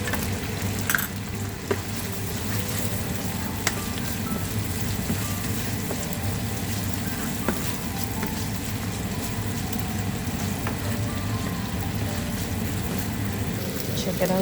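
Guyanese butterfish frying in oil with seasoning and tomato paste, giving a steady, dense sizzle that runs evenly through the whole stretch with small crackles and pops.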